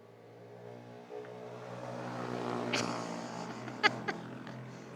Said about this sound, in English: The motorcycle gang just went by. Those are motorcycles.